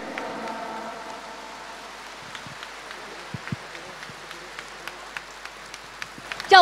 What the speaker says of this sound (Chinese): 让我们再次以热烈的掌声感恩卢军宏台长的精彩开示